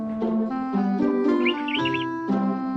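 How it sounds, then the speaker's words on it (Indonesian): A male canary gives a short, high, rapid trill, fairly faint and set against a steady, tonal background sound. "Burung kenari jantan bisa berkicau."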